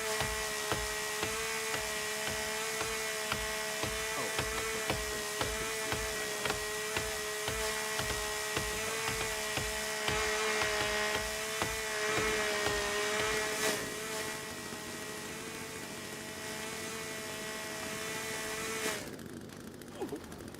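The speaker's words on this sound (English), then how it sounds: "chainsaw" A chainsaw runs in the survival video game The Forest, giving a steady droning engine whine with rapid regular pulses. It keeps going for a long stretch, then drops away near the end, leaving a quieter hum.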